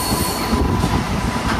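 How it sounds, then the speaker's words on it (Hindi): A Mumbai–New Delhi Duronto Express runs close alongside near Tilak Bridge, Delhi, giving a loud, continuous rumble of wheels on rails with squealing and a busy clatter of passing carriages, no talking. "मुंबई नई दिल्ली दुरंतो एक्सप्रेस, अभी जस्ट हमने तिलक ब्रिज क्रॉस किया है और दुरंतो एक्सप्रेस हमें मिल गई हमारे पैरेलल में"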